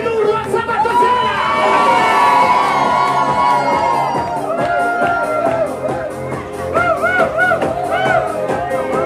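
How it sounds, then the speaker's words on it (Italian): A Saturday-night nightclub crowd at the Strix Mulino Disco shouting and cheering, a loud, continuous roar of many voices with whoops and music underneath. "datemi l'urlo al sabato sera!"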